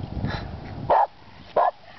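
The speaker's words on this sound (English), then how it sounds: "Except for my dog barking." A dog on a walk in Lake Havasu City, Arizona gives two sharp, close barks about half a second apart after a stretch of distant highway traffic rumble.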